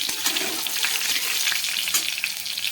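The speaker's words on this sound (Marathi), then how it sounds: "सात आठ लसणाच्या पाकळ्या ठेचून घेतलेल्या आहे मी आणि छान परतून घ्यायचं आहे लसूण" Crushed garlic cloves sautéing in a pan for a mixed vegetable dish, a steady close sizzle with faint stirring scrapes and no talk.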